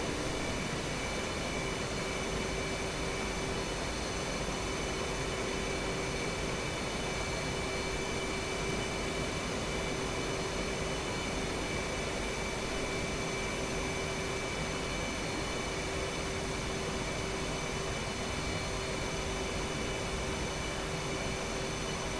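An FA-18 Hornet's jet engine in a flight simulator game holds a steady, unbroken drone with a constant whine on top, even and moderately loud throughout, with no voices.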